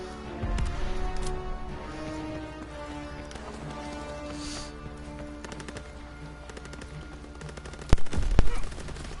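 Gunfire and machine-gun bursts from a PS4 shooter game crackle steadily through a dense wash of battle noise, with a louder flurry of close shots near the end.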